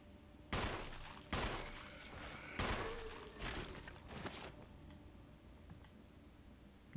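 Gunshots from the video game Resident Evil Remastered, four sharp, loud reports spaced about a second apart, each trailing a short echoing decay, then quiet ambience.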